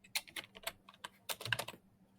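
Rapid typing on a computer keyboard, a close, quiet burst of uneven clicks with short pauses between flurries, heard alone.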